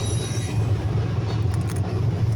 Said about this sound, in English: And we got another train.